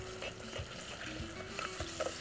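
Ginger-garlic paste sautés with onions in a hot pan, a steady close sizzle broken by soft scraping stirs and light knocks of the utensil.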